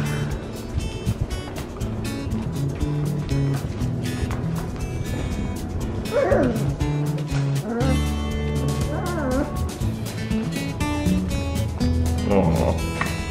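Four-week-old golden retriever puppies play and scuffle, letting out high, wavering yips and whimpers in short bursts amid constant rustling, with people talking over them throughout.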